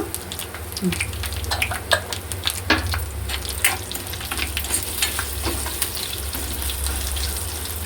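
Dried red chillies and a pinch of asafoetida fry in a pan of oil for a gongura sesame pickle tempering, giving a steady close sizzle with scattered crackles and pops, plus a low hum underneath.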